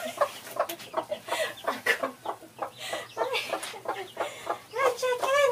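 A chicken hen clucks close by in a steady run of short, choppy calls, some rising into longer squawky notes, continuing without pause and loud against a quiet background.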